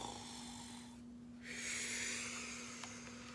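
A voice imitates a soft, drawn-out snore, a single breathy rasp over a steady low hum, quiet and close.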